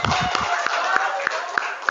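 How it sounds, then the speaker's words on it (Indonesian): A class claps for a student named Nani, with scattered, evenly spaced claps about every third of a second, starting denser and fairly close, under talk. "Oke, ya, tepuk tangan Nani dulu."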